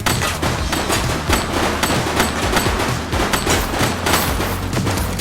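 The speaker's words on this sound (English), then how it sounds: "He's shooting!" Dense, sustained gunfire from the video game The Precinct, a loud fusillade of overlapping rapid shots and bursts with booming low end, continuous for several seconds with no talk.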